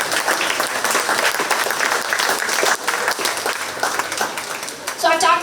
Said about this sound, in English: giving all these kids the round of applause that they deserve